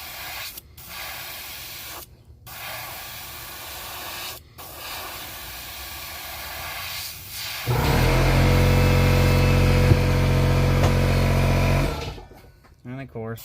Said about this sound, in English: the loud compressor goes off